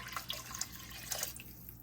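Water is poured into a pot of soup with beef broth: faint, close splashing and trickling with a few light drips, no voices.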